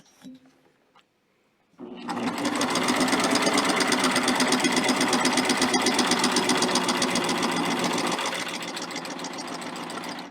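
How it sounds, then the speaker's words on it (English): Sewing machine running a quilt binding through a Knit Woven double fold bias binder attachment, a loud fast continuous stitching whir lasting about eight seconds and easing off slightly near the end, with no talk over it. "I'm going to stitch off so I have some binding"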